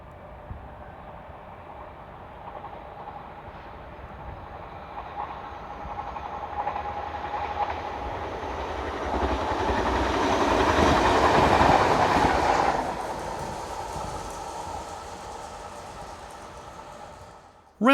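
A local passenger train unit, number 964, passes heading south on a European line, its rumble building gradually from a distance with rhythmic clickety-clack of the wheels, peaking near the middle and then fading away.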